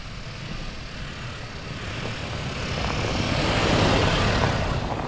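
Honda Passport TrailSport with a naturally aspirated V6 driving on the road, a steady broadband engine and road roar that swells gradually louder toward the end, continuous with no talk.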